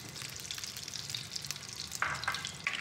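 Desi ghee heating in a pan on the stove, a soft continuous sizzle and crackle with light spattering pops, fairly quiet and close, no talking.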